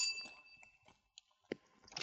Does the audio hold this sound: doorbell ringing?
yes